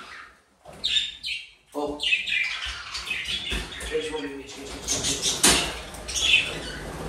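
Pet budgerigars chirp and tweet in short bursts close by while someone talks over them in Turkish.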